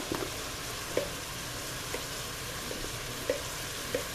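Minced garlic frying alongside chili ingredients for beef and bean chili, giving a faint, even sizzle with a few light spoon taps.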